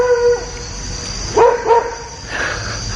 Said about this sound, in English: This dog fucking hates my guts.